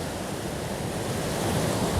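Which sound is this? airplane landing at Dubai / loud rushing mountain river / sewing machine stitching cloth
loud rushing mountain river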